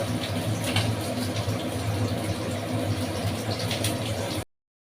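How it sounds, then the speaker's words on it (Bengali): A Bengali egg curry (chicken egg bati chorchori) simmers gently in a pan over low heat, giving a continuous soft bubbling hiss that cuts off abruptly at the end. "তো এখন কিছুক্ষণ এইভাবে আস্তে করে জাল দিয়ে আমি ফুটিয়ে নেব"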